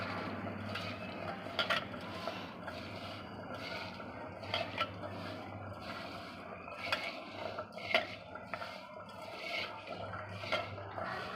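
Kerda pickle being mixed with salt and turmeric in a pot: repeated scraping and clinking of a utensil against the metal, in irregular strokes over a low steady hum, close and fairly quiet.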